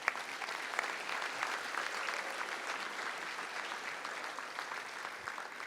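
Sustained audience applause at a Santa Clara State of the City address, a dense, steady wash of many hands clapping at an even level for nearly six seconds with no talking.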